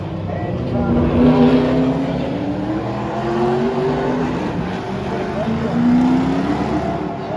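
A Mini race car at the Albany Around The Houses classic street race drives past with a loud engine note rising and falling through gear changes, alongside the drone of other traffic and a commentator's voice.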